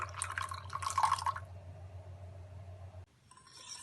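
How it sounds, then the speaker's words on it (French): A heated blend of vegetable oil and soy lecithin pours from one bowl into another, a close liquid trickle and drip that is loudest early, then fades to a quiet thin stream before stopping. "Versez la préparation du premier bol dans le second bol."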